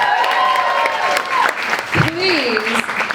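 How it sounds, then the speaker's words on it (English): Comedy show audience applauds and cheers, clapping mixed with whoops while a voice speaks over it near the end. "Keep the round of applause going for our next lovely guest"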